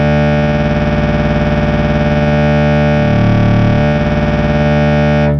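A sustained, buzzy Moog Multimoog synthesizer drone, oscillators combined with an octave divider adding one and two octaves down, thick and distorted, swelling slightly in the middle before holding steady to the end.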